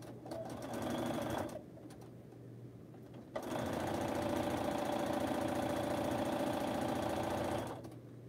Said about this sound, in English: now I'm back to sewing these blocks